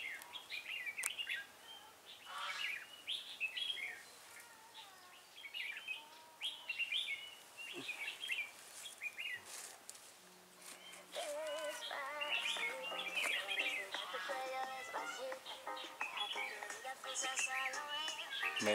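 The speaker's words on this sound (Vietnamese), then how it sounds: "mùa này chim thường thường đánh lâu" Red-whiskered bulbuls call at a trap: repeated bright chirps and warbling phrases, fairly close and persistent, growing busier in the second half over a quiet outdoor background.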